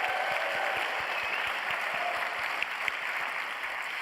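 Dense, sustained applause from a large audience at a video game industry awards ceremony, an even wash of many hands clapping that holds steady at a distance without pause.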